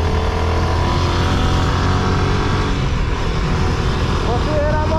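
A motorcycle engine revved by working the throttle with the foot while riding, a loud rough motor drone close by, steady with rising pitch near the end.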